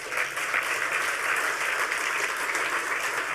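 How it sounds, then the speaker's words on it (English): Steady, dense applause from a conference audience at a hacker convention (The Next HOPE, 2010) continues at an even volume throughout, with no voices over it. "we need a round of applause for that"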